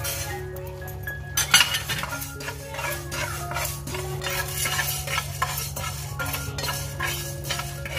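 Whole spices for a jackfruit masala dry roasting in a pan, scraped and stirred with a metal spoon: rapid repeated scraping and clinks over a soft sizzle and steady hum, close, no talk.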